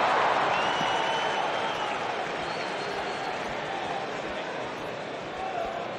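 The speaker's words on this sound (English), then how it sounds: "We've got a raucous crowd here in Philadelphia tonight" A crowd in the WWE 2K19 wrestling video game, at an arena in Philadelphia, roars in a steady wash of cheering and clapping that fades slightly, under commentary voices.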